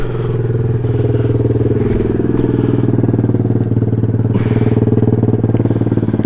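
A Chinese pit bike engine running steadily on a ride after an $8 air filter change, a loud, close, continuous mid-pitched drone with rapid firing pulses and faint clatter throughout, no talking.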